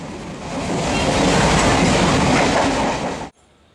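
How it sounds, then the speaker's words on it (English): A train rushes past loudly with a roaring, rattling wash of wheels on rails, building steadily before cutting off abruptly. "As the train sped up, so did our adrenaline."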